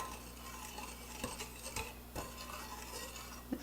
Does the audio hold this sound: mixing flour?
yes